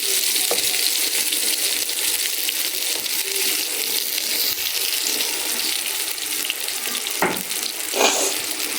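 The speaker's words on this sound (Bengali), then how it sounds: "এর জন্য পিঠ লাল লাল করে ভাজে নিচ্ছি একদম কড়া করে" Eggplant slices fry in oil in a pan, giving a steady bright sizzling hiss throughout, with a couple of brief clinks from utensils near the end.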